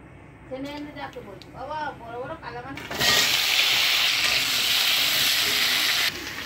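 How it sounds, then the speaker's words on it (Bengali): A voice talks at first, then hilsa fish lightly frying in a pan gives off a loud, broad sizzling hiss that holds steady for several seconds before easing. "মাছগুলো খুব একটা ভালো ভাজা হচ্ছে না, হালকা হালকা ভাজছি"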